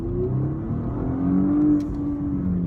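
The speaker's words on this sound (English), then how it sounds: "That was a second gear pull" A 2019 Porsche Panamera E-Hybrid pulls hard in second gear, its engine note climbing steadily in pitch as it accelerates, loud and close for a few seconds without talk.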